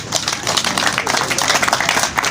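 An audience at a graduation ceremony claps continuously, dense steady applause filling the hall for a couple of seconds without talk.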